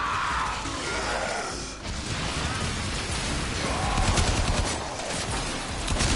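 Sustained automatic assault-rifle fire from the video game Warframe, a dense, loud, continuous rattle of rapid shots with crashing impacts mixed in, barely pausing for the whole stretch.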